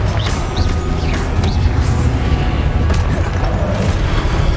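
Confringo blasting spell exploding in Hogwarts Legacy, a dense booming blast with crashing debris and game effects that rumble loudly throughout, with no speech.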